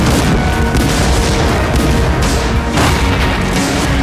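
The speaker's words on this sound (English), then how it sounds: "Man the cannons!" Ship cannons fire in an Assassin's Creed IV naval battle, a loud, continuous barrage of booming blasts and crashing impacts layered under a dense, roaring mix with no break.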